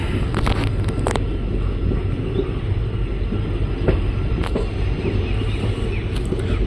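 A train rolls through Belagola railway station near Mysore, a loud steady rumble with occasional sharp clanks and squeals, close by and continuous.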